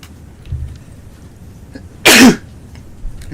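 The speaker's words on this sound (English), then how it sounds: "Sorry about that sneeze." A single loud sneeze bursts out near the microphone, short and sharp, against a quiet room with faint background noise.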